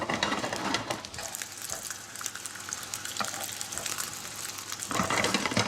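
Fish fingers coated in breadcrumbs and dill fry in a hot pan, a steady close crackling sizzle that runs throughout, briefly louder at the start and end.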